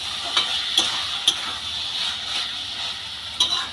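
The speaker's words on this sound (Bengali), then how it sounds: "চিনিটা দিয়ে একটু ভালো করে নেড়ে নিলাম।" Sugar being stirred into a pan of sajne flower (drumstick flower) chorchori, a steady close sizzle with a few sharp spoon scrapes against the pan, no talking.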